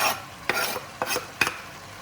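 Onions in a pot after wine has cooked off, for a Neapolitan Genovese: a quiet sizzle with four distinct stirring scrapes spaced about half a second apart, close and without speech.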